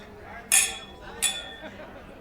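Glasses clinking in a toast over British best bitter beer, two bright chinks about a second apart, close by, with voices chattering quietly underneath.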